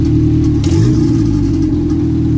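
A car engine revs during Speeduino acceleration enrichment tuning, a loud, close, sustained mid-pitched roar that rises briefly before settling, with no voices.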